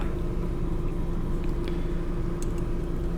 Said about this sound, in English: I really would prefer to have my car off, but like, oh my god, it's so loud